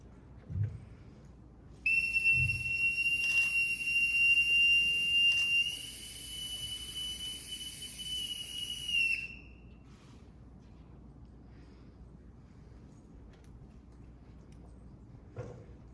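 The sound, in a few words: boatswain's pipe piping the side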